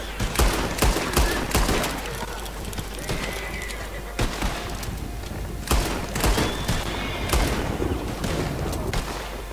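Gunfire in the Red Dead Online western video game, loud and continuous: repeated sharp shots and volleys over a busy mix of game noise, with a horse whinnying somewhere in the scene.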